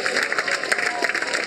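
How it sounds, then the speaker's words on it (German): Crowd at a cannabis-legalisation rally in Germany applauding a speech, a dense, steady patter of clapping hands from many people, moderately loud and continuous. "Applaus."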